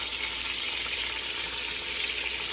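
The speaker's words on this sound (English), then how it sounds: "And saute them down" Vegetables sauté in a pan for oxtail and cabbage, with cabbage and green onion named among them: a steady, loud, close sizzle holds without a break and no one talks over it.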